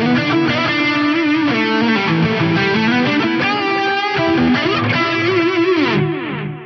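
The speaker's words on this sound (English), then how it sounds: "I have this quad parallel delay that I've dialed in for like a delay and a chorus." An electric guitar running through an FM9 quad parallel delay patch set for delay and chorus, loud shimmering chords with long echoing repeats that fade at the end, played alone.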